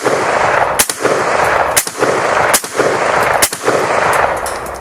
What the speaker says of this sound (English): So if I take this and I cycle this through, send lead down range